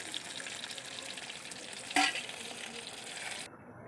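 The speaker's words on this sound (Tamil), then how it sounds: "மொச்சப்பயிரையும் இதையும் கிண்டிட்டு இருக்கேன்" Field beans and cluster beans being stirred in a pan for a spicy Tamil curry, giving a soft, steady sizzle with a sharp scrape near the middle before the sound briefly cuts off.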